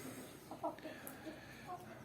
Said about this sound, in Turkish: Tavuklarımızı besledim.